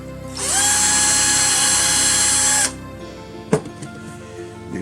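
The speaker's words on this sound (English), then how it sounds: "drilling the holes to start the screw off" A power drill bores screw holes in thin stripwood, a high whining spin lasting about two seconds and then cutting off, followed by a single sharp click and quiet.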